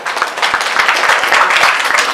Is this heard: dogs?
no